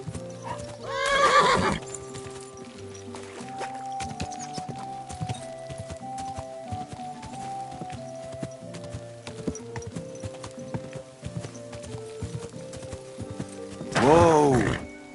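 Steady clip-clopping hooves thud along beneath background music in the video game Kingdom Come, with a shrill horse whinny near the start and another near the end.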